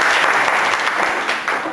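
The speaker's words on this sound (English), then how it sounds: "Give a big round of applause" A cabaret competition audience applauds in a short, dense burst of many hands clapping together, loud and steady throughout.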